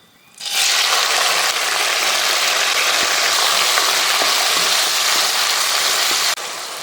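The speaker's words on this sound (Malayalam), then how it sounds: "എണ്ണ നല്ല ചൂടായി വന്നിട്ടുണ്ട്. അതിലേക്ക് ഒരു തക്കാളി ചെറുതാക്കി അരിഞ്ഞത് ഇട്ട് കൊടുക്കാം." Chopped tomato hits hot coconut oil and bursts into a loud, steady sizzle that holds evenly for several seconds before dropping slightly near the end, with no talking.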